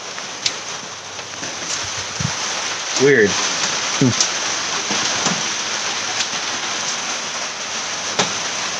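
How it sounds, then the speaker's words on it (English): Steady hiss of rain drumming on a shed roof heard from inside, loud and even throughout, with a few brief spoken words and scattered louder drips over the constant patter. "It's not even raining hard."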